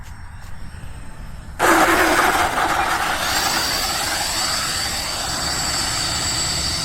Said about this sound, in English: See if we can kick in some thrust reverse here.